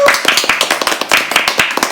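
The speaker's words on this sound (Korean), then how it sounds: "박수!" A group claps together at a lively show opening: a steady run of sharp, even hand claps, close and loud, filling the whole moment with cheering voices mixed in.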